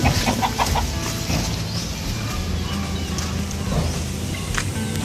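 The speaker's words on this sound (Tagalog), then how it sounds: "Dito naman yung iba kong mga manok, nandito nakalagay." Chickens clucking in a backyard pen, scattered short clucks close by over a low continuous background rumble.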